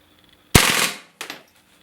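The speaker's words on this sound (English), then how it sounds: "now we're going to go full automatic and see if we can empty this clip" A Colt M16 rifle fires on full automatic in a loud, close burst of about half a second, then a second shorter burst follows a moment later, with no talk over the shots.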